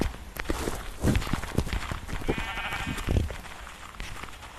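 A sheep in the video game Minecraft bleats once in a drawn-out, wavering call over soft, irregular footsteps and shuffling.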